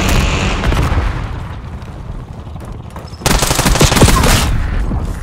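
Semtex grenade detonation and gunfire in Black Ops 6 multiplayer: a dense, continuous roar of automatic fire and blasts, dipping slightly mid-clip before a sharp louder surge of explosive bursts near the end, with no talking.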